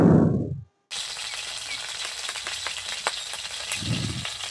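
Minced garlic, ginger and salt land in a hot pan for a shrimp roast, giving a steady close sizzle with a brief pause near the start and light scraping ticks as it fries.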